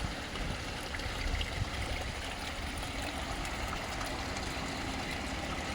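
Water flows steadily through a backyard fish pond barrel filter system, a constant close rushing and trickling wash with no pauses and no voices.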